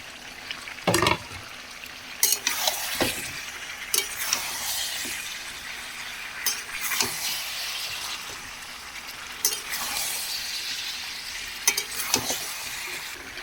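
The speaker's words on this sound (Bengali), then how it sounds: "এখন আমি কষাতে কষাতে ভেজে রাখা আলুগুলো এর মধ্যে দিয়ে দেবো।" Chicken masala with fried potatoes stirs and sizzles in a pan, a steady close frying hiss broken by repeated scraping strokes of a spoon.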